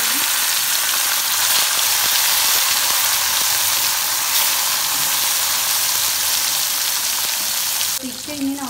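Fish frying in refined oil in a hot pan makes a loud, dense, continuous sizzle and hiss close by, which changes briefly near the end as the fish is moved, with no talking.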